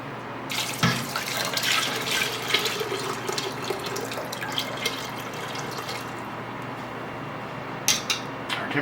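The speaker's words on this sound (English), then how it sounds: "So now we're going to add enough hot water to bring us up to" Hot water pours steadily from a tap into a pot of Jarlsberg cheese curds, a continuous close splashing rush with a few sharp clinks near the start and end, no talk.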